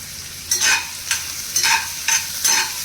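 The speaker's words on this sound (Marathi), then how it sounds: "कांदा पूर्ण फोडणीमध्ये चांगला परतवून घ्यायचा." Onions sauté in a hot pan, a steady sizzle broken by four rhythmic stirring scrapes about half a second apart, close and fairly loud.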